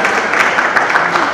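Applause at a lecture event, a dense wash of steady clapping from a crowd, close and fairly loud, continuing evenly throughout.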